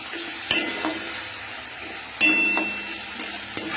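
Cumin and coriander paste frying and being stirred in a pan, giving a steady soft sizzle with a few sharp utensil scrapes against the pan.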